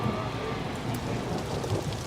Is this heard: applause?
no